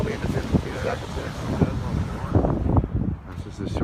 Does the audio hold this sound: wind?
yes